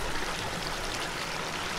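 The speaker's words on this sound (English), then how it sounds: "we rebuilt that waterfall on the top, kind of overflows through here" Water spilling over a small rebuilt rock waterfall into a backyard pond, a steady close rushing trickle and splash without pauses, fairly loud and alone.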